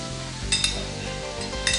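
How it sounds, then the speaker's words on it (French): Mousseron mushrooms sizzle steadily in hot butter in a pan, with two short bursts of stirring scrapes over the constant frying hiss. "Cuire les mousserons dans du beurre."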